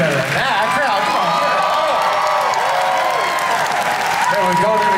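Large convention crowd at Anthrocon 2022 cheering and whooping with applause as fursuiters dance on the floor, a loud continuous roar with shouts and a voice calling out over it.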